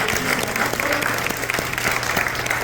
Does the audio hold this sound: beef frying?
no